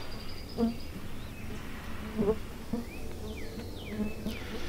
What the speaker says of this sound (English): it's like buffalo gnats